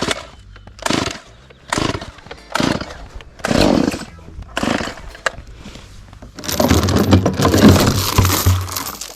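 A chainsaw is pull-started with several separate rope tugs and short sputters, then catches and runs loudly and steadily over the last few seconds, close by, outdoors while a tiny home is being moved.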